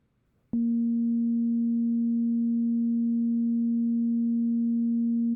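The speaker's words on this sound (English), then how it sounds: "So first, let's just make sure FM8 is still listening on the first channel." A single smooth FM8 synthesizer tone starts suddenly and holds steady and pure for several seconds, with nothing else heard.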